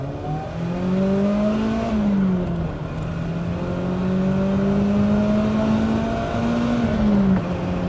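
BMW E30 M3 four-cylinder engine pulling hard in first gear, a steady loud rasping drone whose pitch climbs and dips through the run with a brief shift near two seconds, heard continuously from inside the car.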